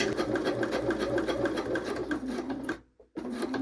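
A sewing machine stitching a raw-edge leather card wallet, a steady rapid close mechanical whir that stops briefly near the end and then resumes.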